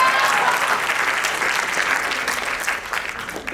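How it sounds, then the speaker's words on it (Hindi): An audience at a Hindi poetry reading claps steadily, a dense, fairly close burst of applause that holds for a few seconds and then begins to thin out. "तालियां बजाइए।"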